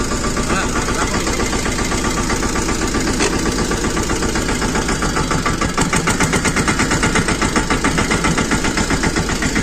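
A loaded tractor's engine runs steadily nearby at a market yard in Una, Gujarat, with a loud, rhythmic diesel chug and rattle, and a voice talks briefly over it.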